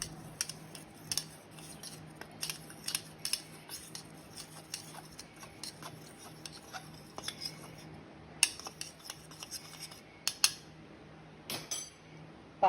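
Custard powder being stirred into milk with a spoon, light scattered clinks and taps against the bowl at an uneven pace, quiet and close, with a faint low hum underneath.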